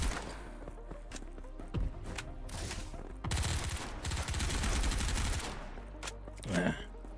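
Gunfire in a PC video game match: waves of rapid bursts and volleys of shots that rise and fall over several seconds, with a voice faintly heard among them.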